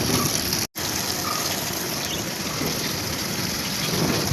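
Steady, loud spray of water from a hose washing dusty solar panels, a continuous hiss and splash with one brief cut near the start.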